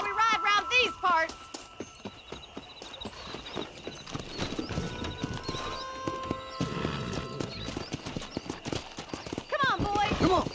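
Horse galloping under a rider in Red Dead Redemption, rapid close hoofbeats pounding steadily, with a whinny at the start and again at the end, and voices talking over it.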